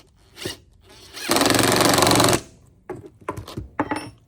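A loud power tool whirs steadily for about a second, bracketed by shorter bursts of handling noise and clunks before and after.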